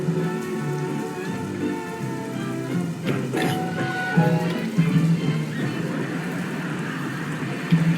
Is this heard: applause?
no